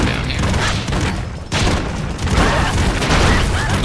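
Explosions from the side-scrolling action game Broforce, a dense run of loud booming blasts and crashing debris that fills the whole stretch with hardly a pause, backed by a game soundtrack.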